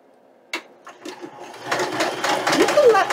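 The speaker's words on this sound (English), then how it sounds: "So now I'm going to sew around the edge, all the way around the edge." Sewing machine stitching around the edge of a recycled junk-mail envelope for a vintage-styled junk journal, a soft start building into a steady close whirring run with brief clicks before it.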